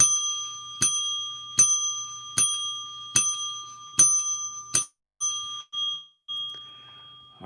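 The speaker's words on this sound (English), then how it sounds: "Let me get his bell ringing in here." A bright bicycle-style bell dings about seven times at a steady pace, each strike sharp and ringing, followed by a few softer, shorter dings during a livestream.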